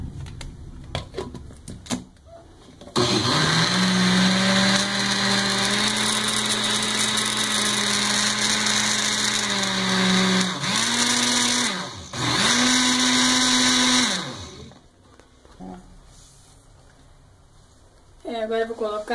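Blender whirring as it mixes chocolate cake batter made with coffee for a Nega Maluca cake, a steady loud motor drone that runs about nine seconds, pauses briefly, then revs again for a couple more seconds.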